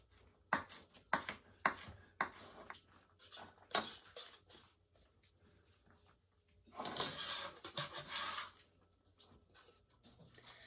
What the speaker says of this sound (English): I am going to slice it up, and I'm going to do my best to mince it up too.